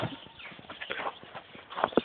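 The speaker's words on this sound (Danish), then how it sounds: "Og heste forfølger ham." Horses' hooves clip-clop in quick, uneven beats close by, with a couple of sharper, louder strikes near the end and no voices over them.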